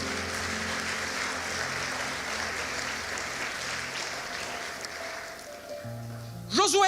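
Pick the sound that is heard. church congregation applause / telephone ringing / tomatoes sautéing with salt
church congregation applause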